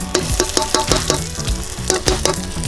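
Shallots hit a smoking-hot wok with loud, steady frying sizzle. Repeated sharp clanks of a spatula stirring against the metal pan cut through it, close up and with no voices.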